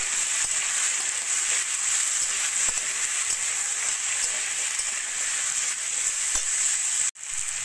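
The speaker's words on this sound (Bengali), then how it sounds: "দিয়ে একটু ভাজা ভাজা করে নেব।" Beetroot, carrot, onion, tomato and ginger fry in a pan for soup, a steady close hiss of sizzling with faint stirring clicks that runs unbroken until a brief cutoff near the end.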